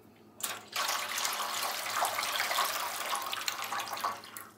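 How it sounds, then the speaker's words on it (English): Water pours steadily into a deep roasting pan, a continuous rushing splash that starts abruptly and runs loud and close for several seconds. "I'm going to put plenty of water in it. About halfway full. It's a deep roasting pan."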